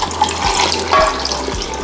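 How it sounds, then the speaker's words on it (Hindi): Water poured from a tap or jug into a pan of tomato masala for mutton chops, a close, steady splashing pour over a low hum, with no talk. "अब हम इसमें पानी शामिल कर देंगे।"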